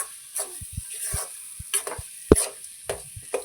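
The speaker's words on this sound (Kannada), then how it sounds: "ಇವಾಗ ಇನ್ನೊಂದು ಸರಿ 2ರಿಂದ 3 ನಿಮಿಷ ಚೆನ್ನಾಗಿ ಮಿಕ್ಸ್ ಮಾಡಿಕೊಂಡು ಫ್ರೈ" A semolina and ripe banana mixture being stirred and fried, with soft sizzling under a series of irregular spoon taps and scrapes against the pan.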